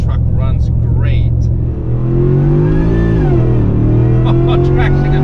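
Ford F150 pickup with a new engine revving and pulling hard, a loud close engine drone that dips and then climbs steadily in pitch, with a voice briefly audible early on.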